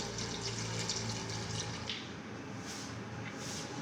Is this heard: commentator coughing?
no